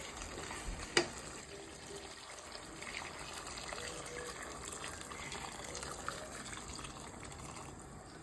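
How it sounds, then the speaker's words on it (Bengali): Hot water pours into a pot of cooking mung dal as a faint, steady gushing stream, with a single sharp knock near the start. "গরম পানি দিয়ে আমার পরিমাণ মতো জল দিলাই"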